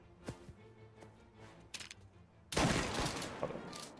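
Gunshots ring out in Mafia: Definitive Edition, a few scattered distant pops at first and then a loud, dense volley that breaks in sharply partway through and keeps rattling.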